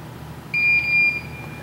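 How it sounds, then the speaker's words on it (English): An electronic tire tread depth gauge gives a single clear, high-pitched beep lasting about half a second over quiet background hiss. "To measure, you simply place the plunger in between the treads and press down and wait for the beep."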